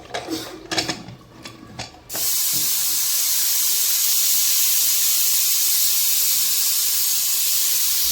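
A pressure cooker whistle blasts a loud, sustained hiss of escaping steam while mutton biryani cooks, following a couple of seconds of clattering kitchen handling, close and steady to the end.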